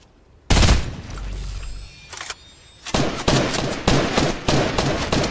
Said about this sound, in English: I'm so good at aiming that I'm shooting right in between his legs